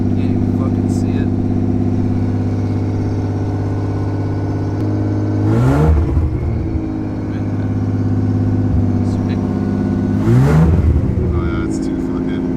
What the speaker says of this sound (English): Is that popping because it's like misfiring or is it?